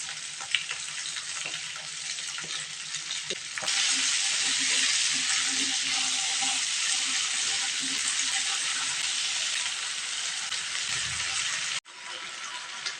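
Potatoes fry in a pan for dum aloo as salt goes in, giving a steady loud sizzle that swells partway through and holds, with faint stirring scrapes and a brief break near the end.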